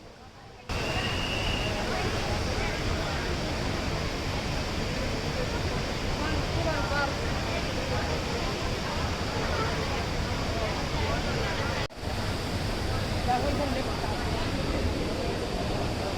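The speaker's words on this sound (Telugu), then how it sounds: "మీరు కూడా వినండి ఎంత సౌండ్ వస్తూ ఉంటే కపిలతీర్థం జలపాతం నుంచి డైరెక్ట్గా వినండి." Kapilatheertham waterfall swollen after Cyclone Michaung, a dense, continuous roar of heavy falling water filling the whole scene at steady loudness, with faint crowd murmur mixed in.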